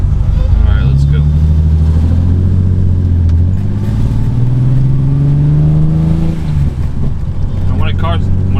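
A BMW with an M20B25 inline-six engine revving while driving, the engine note rising and falling over several seconds, close and loud inside the car, with a voice talking intermittently over it.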